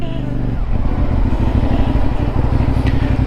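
A CFmoto 450NK motorcycle runs steadily with a low, throbbing engine note and a faint rise in revs. It stays close, loud and continuous for the whole stretch.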